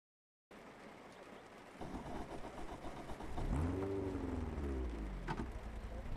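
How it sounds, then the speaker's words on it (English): Rain and water spraying against a race car in the iRacing sim, a steady hiss that swells louder partway through alongside a low engine note rising and falling in pitch, with no talking. "it sounds like rain. Sounds like water."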